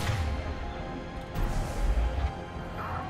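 In the video game Mass Effect 3, a fire explosion lands as a crashing burst over steady game background noise, with a swelling rumble in the middle.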